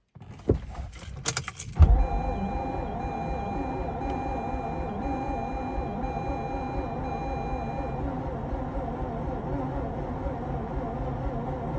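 A Mazda RX8 rotary engine cranks without catching: a burst of clicks and rattles gives way to a long, steady, rhythmically pulsing starter whir that continues at an even level for about ten seconds.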